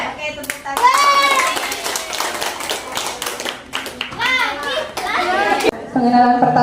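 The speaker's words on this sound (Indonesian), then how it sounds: "Oke, tepuk tangan." Children clap their hands together in a classroom during a teacher-led counting game, brief bursts of claps mixed with lively kids' chatter and voices throughout.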